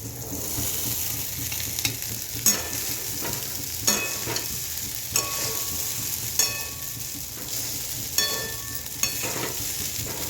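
Sabudana khichdi mixture sizzling in a pan as a spoon stirs it, a steady frying crackle punctuated by regular clinks and scrapes of metal roughly every second, close and without talk.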